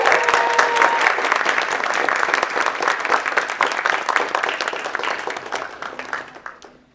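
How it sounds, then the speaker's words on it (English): A film screening audience applauds the directors in a dense, sustained burst of clapping that carries for several seconds before tapering off and fading out. "Let's give the directors another round of applause."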